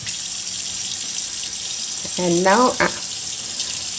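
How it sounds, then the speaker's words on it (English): Cold tap water runs steadily while chicken is rinsed in a sink, a constant close splashing hiss with a person speaking briefly over it. "we're gonna rinse the chicken now in cold water"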